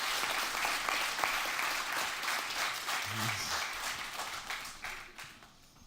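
Audience applause fills a room at a talk, dense and steady throughout, then thinning toward the end. A brief low voice breaks in midway.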